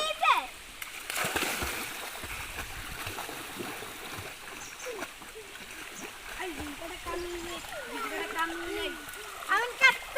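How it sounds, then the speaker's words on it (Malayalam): A child swims in muddy water, splashing irregularly and close by, with trickling water and people talking throughout. "അപ്പൊ മോനെ നിങ്ങൾക്കൊന്ന് നീന്തി കാണിച്ചു തരും"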